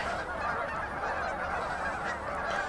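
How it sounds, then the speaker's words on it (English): Swans honk outdoors, a continuous chorus of overlapping nasal calls at moderate distance, steady and unbroken throughout with no voices. "So I don't know what to say about the swans here"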